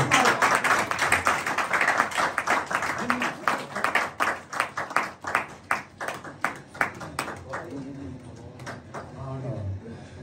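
An audience claps at a Saraiki poetry book launch ceremony, with a full burst of applause that thins into scattered individual claps and fades, while voices talk over it.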